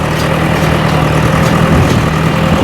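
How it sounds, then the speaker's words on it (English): A tractor engine runs steadily while driving a hay baler through its PTO, a continuous loud low rumble with no breaks and no talking. "But so we engaged the baler. You got the PTO on the tractor. I just engaged it."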